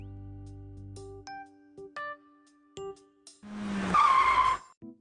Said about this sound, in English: a fancy sports car.